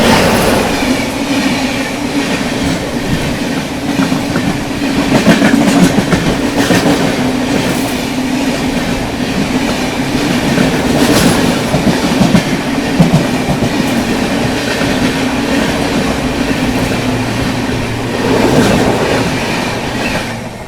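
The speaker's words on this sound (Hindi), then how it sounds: "सामने से आ रही है बठिंडा से चलकर गोरखपुर की ओर जाने वाली गोरखधाम सुपरफास्ट एक्सप्रेस" Gorakhdham Superfast Express, running from Bathinda to Gorakhpur, passes close by with a steady, loud rumble of rail traffic and clattering wheels. Occasional squeals rise above the noise, and it carries on without a break for about twenty seconds.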